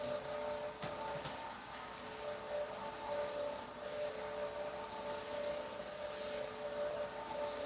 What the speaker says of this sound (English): it's like actually buffing the floors right now